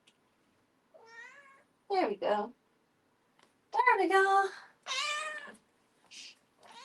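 Pet cats meowing at home, several separate rising and falling meows spaced across the moment, fairly close and clear, with a person briefly speaking in between.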